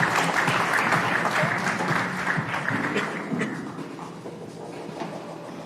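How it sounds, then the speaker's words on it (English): A live audience applauds warmly for a speaker at a space accelerator launch day event at the eBridge Center, dense clapping filling the room and gradually tapering off toward the end. "I'd love for you all to give him the warm warmest round of applause possible."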